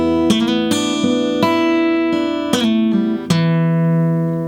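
A guitar plays a slow blues lick in E, a handful of deliberate plucked notes and double stops ringing out, with the last note sustaining and fading, close and alone.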